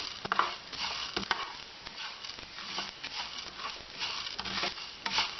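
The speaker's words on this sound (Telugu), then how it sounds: "స్లో ఫ్లేమ్లో మనం తిప్పుకుంటూ వేయించుకోవాలి." Whole garam masala spices, including cardamom and star anise, fry on a slow flame while being stirred, giving a faint, steady sizzle with soft patter and scraping from the stirring.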